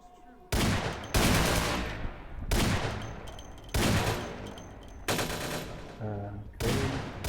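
Gunfire from a weapon in Vampire the Masquerade Bloodlines, heard as five or six loud, sharp shots spaced about a second apart, each with a long ringing tail, and no talking.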